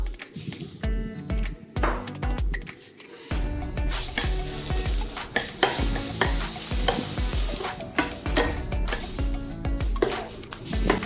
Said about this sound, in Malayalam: നമുക്കിതിലേക്ക് അരിഞ്ഞു വെച്ചിരിക്കുന്ന 2 സവോളയും ഇഞ്ചിയും വെളുത്തുള്ളിയും കൂടെ ചേർത്ത് ഇളക്കി കൊടുക്കാം